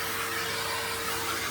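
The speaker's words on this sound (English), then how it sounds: "Giving it a good vacuum in here." Steady, continuous whooshing roar of a vacuum cleaner running during a deep clean of a lounge, unbroken and moderately loud with no speech.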